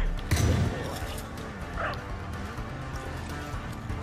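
A dog in the video game Far Cry 5 gives a loud yip and bark close by, followed by a fainter whimpering cry over game noise, with no talk.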